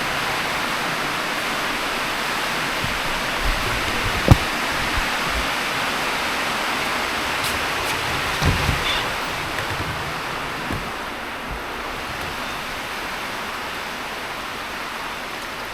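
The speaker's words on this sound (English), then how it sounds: "the sound of the rain pounding off my roof" Heavy rain pounds steadily on a house roof, a dense, even roar that holds for about sixteen seconds and eases slightly toward the end, with a few faint knocks and no talking.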